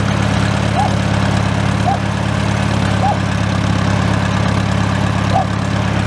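An antique tractor engine idles steadily and smoothly nearby after a fuel additive has been poured in. The low, even drone runs without a break, with a few faint ticks above it and no talk.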